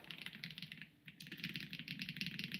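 Keycaps are pried off a mechanical keyboard in a quick, uneven series of light plastic clicks and taps, close up and steady, with one brief pause partway through and no talking.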